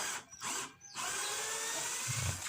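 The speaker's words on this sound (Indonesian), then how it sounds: "Oke, kita bor pelan-pelan." A power drill bores slowly into wood while a lounge chair is being built, with a steady close whine that dips twice briefly near the start before running on continuously.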